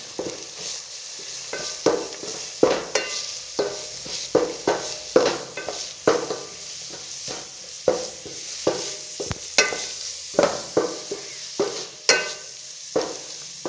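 Sliced onions and carrots being stirred in a pan for carrot rice, rhythmic scraping spatula strokes repeating every second or so over a light sizzle, close and clear.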